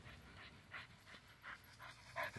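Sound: dog panting hard after playing

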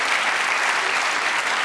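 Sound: studio audience applause for Dr. Phil

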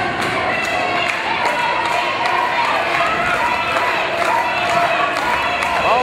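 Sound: wrestling crowd cheering for Ricky Shane

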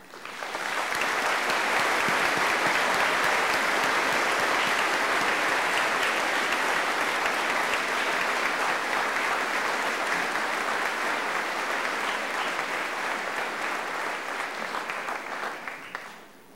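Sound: graduation audience applauding award recipients

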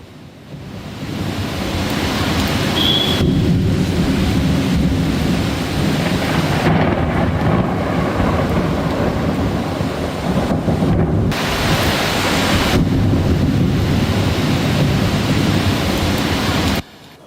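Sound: heavy rain and thunderstorm at night in the city

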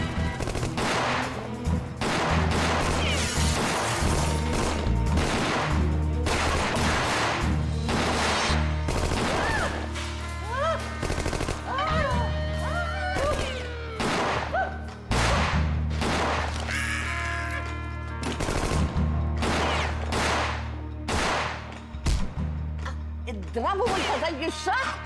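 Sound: exchange of gunfire in a film scene

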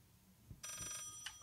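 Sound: telephone ringing in Layers of Fear video game

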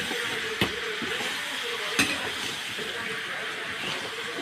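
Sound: sautéing small onions for chicken curry

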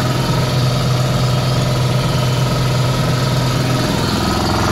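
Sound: air compressor running on 8000W inverter

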